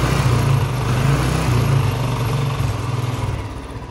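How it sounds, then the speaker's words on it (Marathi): A Royal Enfield Bullet motorcycle with an engine problem runs steadily, a loud, close, continuous low throbbing rumble that holds throughout. "तसं आवाज ऐका गाडीचा."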